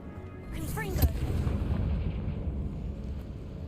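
Burst of the Confringo fire spell going off in Hogwarts Legacy gameplay, a sharp boom with a whooshing tail that rumbles on under game sound for a few seconds.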